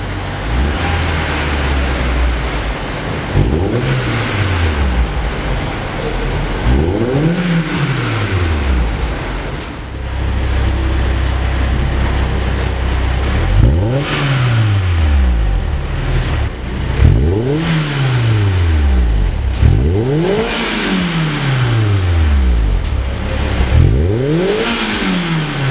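Honda S2000 fitted with a Fujitsubo Power Getter exhaust revving inside a shop, loud and close, with repeated rising and falling throttle blips over a steady idle and no talking.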